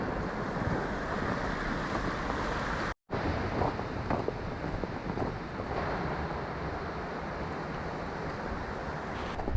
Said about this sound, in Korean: 다시 해가 나고 바람이 불어서 나뭇가지에 눈발이 떨어지고 있습니다